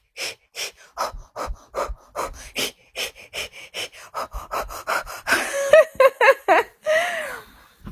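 A woman in labour breathes in quick rhythmic pants, close and loud, with short sharp breaths in a regular pattern that turn into strained, voiced gasps near the end.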